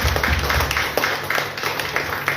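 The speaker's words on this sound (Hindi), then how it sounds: "बजाओ बजाओ ताली" Worshippers at a Hindi Sunday church service clap rhythmically for Jesus, quick regular claps from many hands over a low sustained musical hum, fairly loud and close, with no speech.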